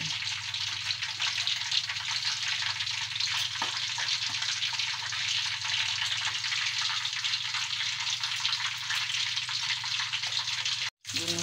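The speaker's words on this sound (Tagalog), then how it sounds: "Ginisa ko na yung sibuyas na puti, sibuyas na pula, bawang, siling labuyo at saka atsal." White and red onions, garlic, bird's eye chilies and atchara sauté in a pan, a dense continuous sizzle and crackle close to the mic that runs unbroken, with only a momentary cut near the end.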